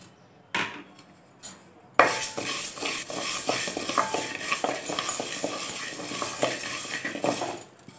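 Toor dal dry-roasting in a thick-bottomed pot over a low flame, stirred briskly with a spoon: a few isolated knocks, then continuous gritty scraping and rattling of the lentils against the metal.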